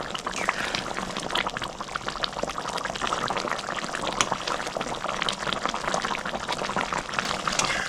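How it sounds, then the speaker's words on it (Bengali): Lilontika fish simmers in a mustard and poppy seed gravy, with constant close bubbling and popping throughout and no talk. "মাছটা দিয়ে আমি 5 মিনিট মতো ফুটিয়ে নেব।"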